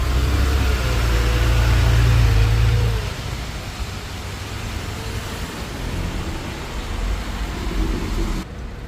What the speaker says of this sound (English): Small traffic.